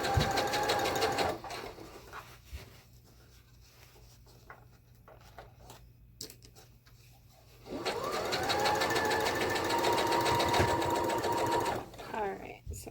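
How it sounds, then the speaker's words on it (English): Sewing machine stitching a pleated woven skirt, a steady close mechanical whir running loud at the start, pausing while a person talks, then resuming strongly for several seconds. "I'm going to stop and take it off my machine and take care to trim those threads out"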